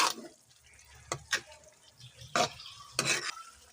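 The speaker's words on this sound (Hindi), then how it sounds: "अब अच्छे से मिक्स करेंगे।" Ginger, green chili and coriander stirred into a tenda curry, a few close wet scrapes and swishes of a spoon against the pot over a soft simmer, no talk.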